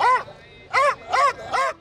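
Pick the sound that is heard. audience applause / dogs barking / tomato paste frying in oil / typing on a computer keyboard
dogs barking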